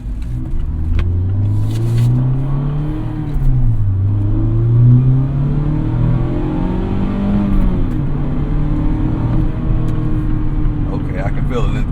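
A Mazda Miata ND1 engine pulls steadily through third gear, its rising drone loud and continuous throughout, with a person talking over it.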